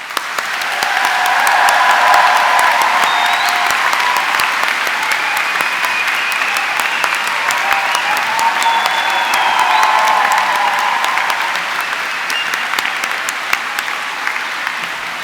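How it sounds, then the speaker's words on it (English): Graduation audience at a Chelsea College of Arts ceremony gives a long, loud round of applause, dense steady clapping filling a large hall throughout with a few scattered voices. "I am sure you would like to join me in giving them a warm round of applause"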